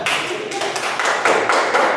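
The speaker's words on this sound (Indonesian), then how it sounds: "Tepuk tangan untuk Rizwan." A burst of scattered clapping from a small group of students in a classroom, brisk and close, with a few voices faintly underneath.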